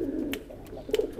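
A racing pigeon coos twice, with soft low rolling calls close by and a brief gap between them, and no talking over it.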